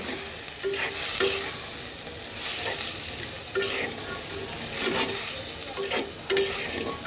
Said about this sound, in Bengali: এইবার এই মশলাটাকে সুন্দর করে কষাতে হবে